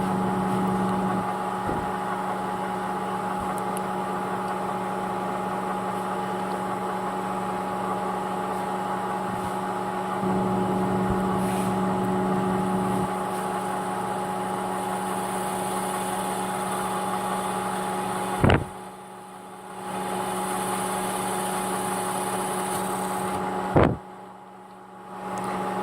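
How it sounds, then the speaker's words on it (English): A steady, whining drone from a mill bit cutting laptop plastic to make cooling vents, running continuously and fairly loud with a sustained tonal hum, broken by two brief clicks and dips. "I just put it down and let the bit eat away at the plastic on its own"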